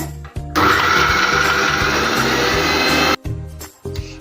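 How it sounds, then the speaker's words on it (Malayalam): A kitchen mixer grinder blends coconut chutney made without water: a loud, steady whirring runs for about two and a half seconds, cuts off, then returns in two short pulses. "ഇത് നമുക്ക് മിക്സിയിലിട്ടൊന്ന് കറക്കിയെടുക്കാം. ഞാൻ മിക്സി ഓൺ ആക്കുവാണ്."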